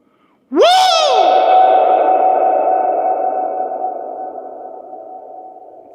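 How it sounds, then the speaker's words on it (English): A voice lets out a rising whoop inside an old, well-preserved structure on the Midewin National Tallgrass Prairie. The loud, close call swoops upward and then rings on as a long, reverberant echo that slowly decays over about five seconds. "I can hear the echo."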